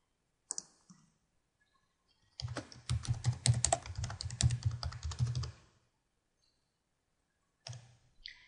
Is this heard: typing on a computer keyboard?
yes